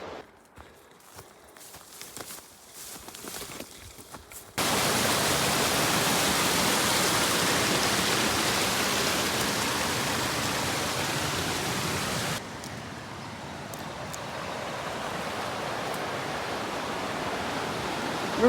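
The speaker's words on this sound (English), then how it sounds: "River Crossin." Rushing river water during a crossing on the Pacific Crest Trail: a loud, dense broadband roar swells in after a few seconds of quieter trail sounds, holds steady, then eases to a softer continuous wash.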